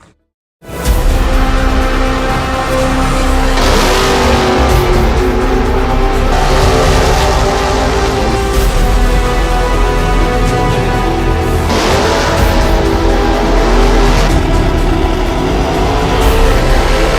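Drag race cars fire up and launch at Las Vegas Motor Speedway during the Spring Fling Million event: after a brief silence, engines burst into a loud, sustained, close roar with rising, shifting pitch that continues without a break.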